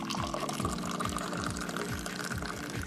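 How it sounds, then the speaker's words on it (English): Moroccan tea poured from a height into a glass makes a steady trickling, splashing stream, fairly soft and continuous, while a low rhythmic thumping repeats faintly beneath it. "And there is an art form as well to pour in Moroccan tea."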